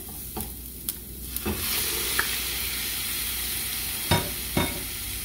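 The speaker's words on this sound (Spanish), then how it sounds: "Y aquí le voy a agregar medio kilo de carne molida." Half a kilo of ground beef sizzles steadily in a pan over sautéed onion, with a constant frying hiss broken by a few sharp stirring clacks and scrapes near the start and end.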